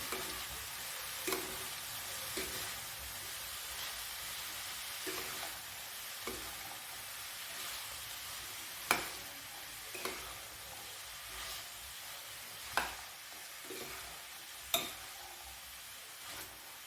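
Cauliflower and soya chunk curry being stirred in a pan, a steady sizzle broken by a spoon knocking and scraping against the pan at irregular intervals, close and moderately quiet, with no voices.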